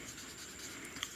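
Chalk or marker writing an equation on a classroom board, a brief faint scratchy stroke with a small tap near the end, heard alone.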